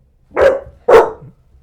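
Labrador retriever barks twice indoors, two loud, close, full-bodied woofs about half a second apart, followed by a faint low whimper.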